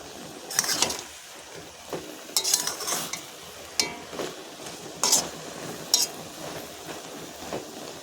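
Taro leaf curry is stirred in a pan after resting covered, with scattered sharp scrapes and clinks of a utensil over a soft low sizzle, close by and without speech.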